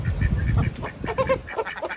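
Ducks quack close by, several short nasal calls in quick, uneven succession with no voices.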